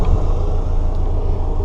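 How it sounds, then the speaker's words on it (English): Toyota MR2 with a K-swap engine idling rough on three cylinders, a steady close low rumble with uneven pulsing, no talk. "At least it's running and driving on 3 cylinders instead of 4."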